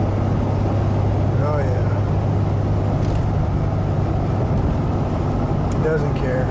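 A 2010 RAM 2500 pickup truck accelerates toward 80 on the road, a loud steady engine and road drone from inside the cab, with a brief spoken remark over it.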